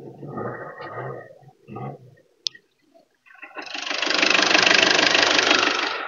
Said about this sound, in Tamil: ஸ்டார்ட் ஆயிடுச்சு. இன்ஜினோட பீட் அப்படியே கேளுங்க.